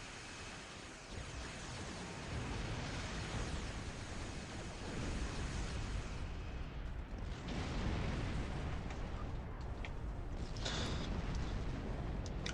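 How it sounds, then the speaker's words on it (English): Point defense turret on a starship in Star Trek Online firing continuously, a dense roaring barrage of blasts and bursts that holds steady and loud for the whole stretch with no talk. "This turret comes from a console that I have on board my ship. It's the point defense console"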